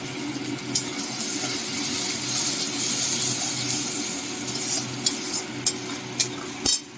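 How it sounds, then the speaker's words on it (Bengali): Ground spice paste and turmeric powder fry and are stirred in a pan for a Bengali potol chingri (pointed gourd and prawn) curry: a steady close sizzle with soft stirring and a few sharp utensil clinks toward the end. "বেটে রাখা মশলা দিয়ে দিচ্ছি হলুদ গুঁড়ো"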